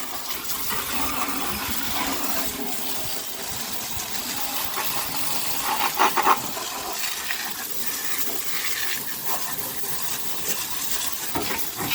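Water sprays steadily into the engine bay of an old 55-year-old Datsun shed find, a continuous hiss and splatter over metal with a few brief louder bursts, close by.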